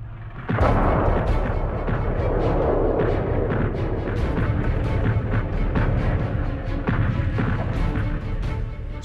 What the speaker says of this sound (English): the eerie calm in the Allied trenches was broken by the heaviest bombardment of the entire First World War